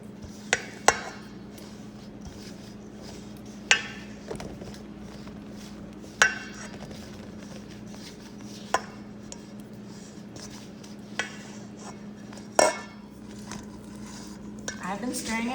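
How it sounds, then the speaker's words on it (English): Flour and yogurt dough gets stirred in a bowl, with sharp knocks of the spoon against the bowl recurring every couple of seconds over a faint steady hum. "Stir in the flour and the yogurt, and I'm going to keep stirring it until we've got a nice ball forming"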